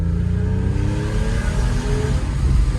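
A 2002 Porsche 996.2 C2 Cabriolet engine rasps while driving, a close, loud, throaty rumble whose rising then falling harmonic tones track the revs as the car pulls through the gears.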